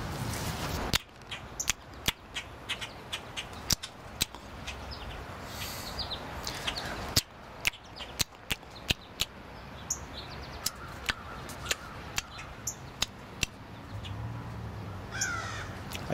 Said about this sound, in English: Starlings and grackles.